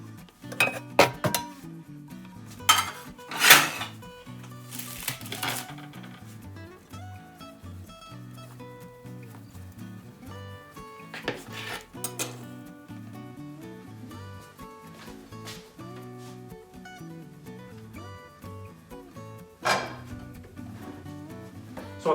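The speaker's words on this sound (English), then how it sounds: "let me go ahead and get my other pan out." Metal pots and pans clatter and clink as a frying pan is pulled out of a kitchen stack, with sharp bursts of clanging scattered among lighter rattles and knocks, close and without talk.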